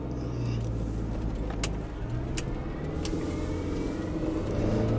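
A 2000 Autosleeper Executive petrol motorhome with a manual gearbox pulling away, its engine drone steady and loud from inside the cab, with a few sharp clicks and knocks over the hum.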